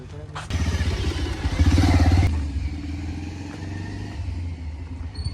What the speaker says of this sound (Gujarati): બાઈક લઈ લેજો